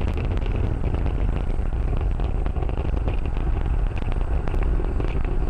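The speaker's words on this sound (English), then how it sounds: "A great view of Falcon 9 heading to space." Falcon 9 first stage Merlin engines throttled down during ascent before Max-Q, a steady, dense broadband roar that stays constant and loud throughout, with no speech.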